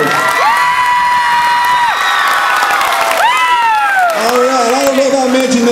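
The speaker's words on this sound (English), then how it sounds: "Please give a warm round of applause" A live show audience cheers loudly, with high whoops and shouts rising and falling over a steady roar of crowd noise and only faint clapping underneath.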